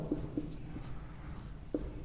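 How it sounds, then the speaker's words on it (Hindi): Pen or chalk writing out a definition during a Hindi grammar lesson, a few short scratchy strokes and taps spread over a quiet background with no talk. "तो मैं इसका अर्थ लिख देता हूँ"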